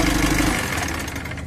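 A Mitsubishi L300 Euro4 engine with an overheating fault runs briefly, up close. Its low rumble fades out partway through the short moment.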